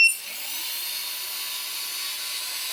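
A J-Mini FPV drone's small motors whine under throttle, a high steady electric hum that starts with a brief sharp burst and then holds loud and constant with no talking.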